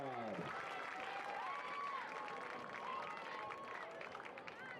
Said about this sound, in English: Again, a big round of applause for our varsity Palm and Cheer squad.